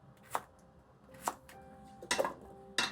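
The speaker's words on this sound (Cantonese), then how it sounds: "蘿蔔去完皮啦，就切開佢" A knife cuts a peeled white radish into bite-size chunks on a board, giving five crisp, separate chops at an uneven pace with quiet gaps between them.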